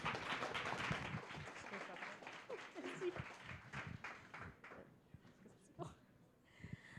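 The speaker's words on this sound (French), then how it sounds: "merci de l'accueillir avec beaucoup d'applaudissements." Audience applause greets a speaker arriving at a Montreal health and rehabilitation evening talk on type 1 diabetes, a dense steady clapping for about five seconds that thins out, with murmured voices mixed in.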